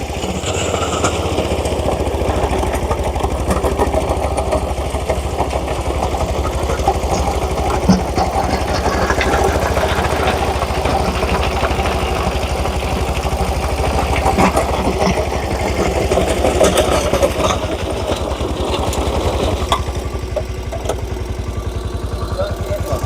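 A small tractor engine runs a 5-foot rotavator with a loud, steady rattling drone and a constant mechanical clatter close by, with voices talking over it.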